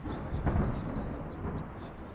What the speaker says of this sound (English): The storm, the thunder, the lightning.